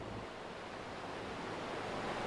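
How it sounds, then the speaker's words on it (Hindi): Steady ocean surf washing against the shore, a continuous broad rush of breaking waves with no distinct crashes, moderately loud and unbroken by voices. "इन बिखरी हुई लहरों को देख रही हूं"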